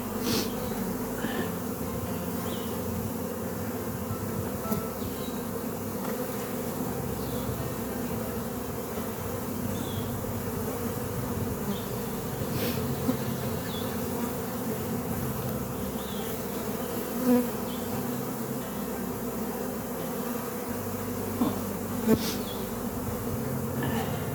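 Honeybees in an open hive drone with a steady, dense buzz throughout a colony inspection, with individual bees passing close now and then over the continuous hum.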